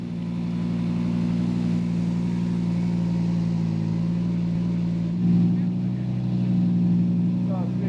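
An Audi Quattro rally car driven by a World Rally champion, heard from inside as a steady, loud, low engine drone with shifting revs and a brief surge near the end, while someone talks over it.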